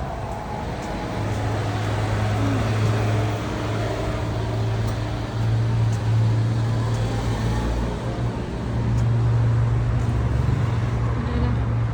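Steady road traffic on a main road in Dubai near a parking area, with roadworks under way: a continuous low engine rumble and broad hiss at moderate level, unbroken for the whole stretch, with no voices.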